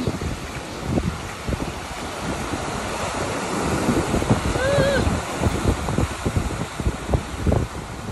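Waves break and wash onto a beach at Rainbow Beach, Australia, as the tide comes in, with steady wind buffeting the microphone and a continuous surf roar rising and falling, while faint bird calls sound briefly midway.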